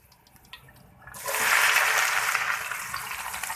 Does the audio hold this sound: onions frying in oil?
yes